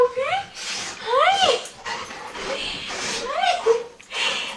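A puppy gives repeated high, rising whimpers and whines in several bursts, close up, while someone speaks affectionately to it in between.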